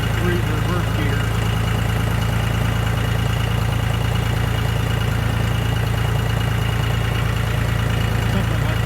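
A John Deere farm tractor engine runs steadily with a deep, constant low rumble and droning hum, close and loud throughout, with someone talking over it.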